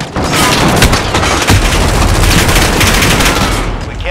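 Grenade blasts and gunfire in Call of Duty 5 as an HQ is held, with dense, loud, continuous bursts of shots and booms that blend into a relentless battle roar.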